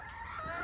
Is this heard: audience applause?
no